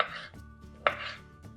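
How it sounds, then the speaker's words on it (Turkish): A knife slicing a peeled orange on a board for an orange cake, giving a few soft, close cuts, each a brief crisp tap against the board. "Diğer portakalı da soyuyorum. Ve bir güzel dilimliyorum."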